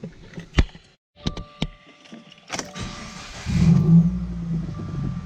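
A few door clunks and clicks, then a Subaru WRX's engine, which has a fuel problem, cranks and starts, settling into a steady low idle nearby.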